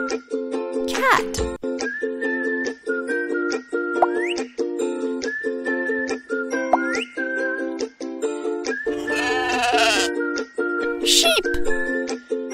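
Sheep bleat from a children's animal puzzle game, a wavering bleat rising over steady, bright looping game music, with a shorter cry near the start.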